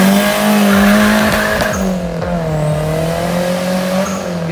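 A turbocharged Mazda Familia engine revs loudly nearby, its pitch rising and falling with a droning tone and rapid gear-like sweeps, no voices.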